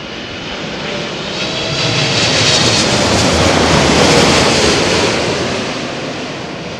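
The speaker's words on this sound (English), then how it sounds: "787 with Turkish now arriving" A Turkish Airlines Boeing 787 lands in gusty crosswind, its broad engine roar swelling toward the middle and easing off again over about seven seconds, loud and steady with no voices.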